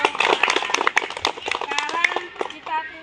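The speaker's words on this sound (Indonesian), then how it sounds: "Tepuk tangan dulu." Schoolchildren in an Indonesian classroom break into a dense, ragged round of hand clapping that runs throughout, fairly close and lively, with voices mixed in and a rhythmic patter toward the end.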